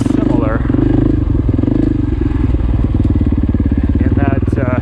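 A KTM dirt bike engine runs while being ridden, a loud, close, steady pulsing drone with a rapid throbbing beat. Someone talks over the engine the whole time.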